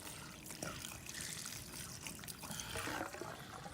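Water trickles and gurgles steadily as a garden hose is lowered into a backyard swimming pool, a continuous wet, splashy rush held close with no talk.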